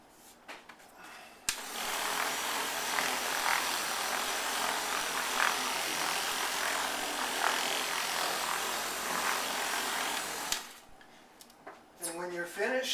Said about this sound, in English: Turn on your buffer and just let it spin